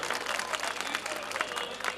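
A large crowd at an outdoor rally in Jahangirabad, Bulandshahr claps together in a dense, steady burst of applause, with a faint voice underneath.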